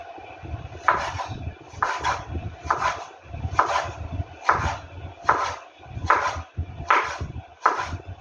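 A knife slices aubergines into thin strips on a board, giving about nine evenly spaced, fairly close chopping strokes, each a soft thud with a crisp bite, in a steady rhythm with no talk.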